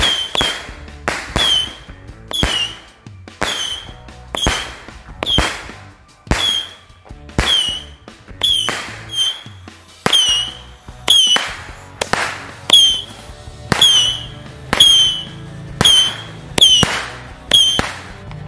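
Small firecrackers are set off outdoors during Ramadan, a long run of sharp, loud bangs at a roughly steady pace of about one per second, each with a brief crackle and echo, with no voices.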